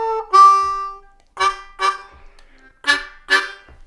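A C harmonica plays a blues lick with bent draw notes: a long held bent tone, then a string of short, punchy phrases with pauses between them, played alone and close.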